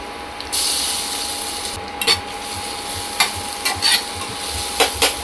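Crushed garlic drops into hot oil in a pan, bursting into a broad, steady sizzle with a few sharp crackles and spatters over several seconds, close and fairly loud, with no talking.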